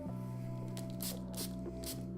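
A few short hissing spritzes from a spray bottle misting oxide ink, spaced irregularly over a steady low background hum.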